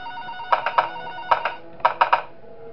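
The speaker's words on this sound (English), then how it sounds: "There's a phone call." A telephone rings in the horror game Five Nights With SMG4, three bursts of quick trilling rings spaced evenly apart, moderately loud and clear with no talking over them.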